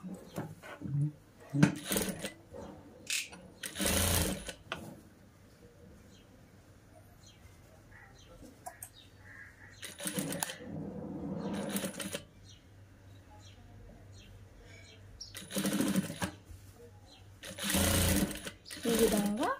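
A sewing machine stitches a child's frock made from an old saree, joining a sleeve: short, rapid bursts of close mechanical stitching alternate with a person talking.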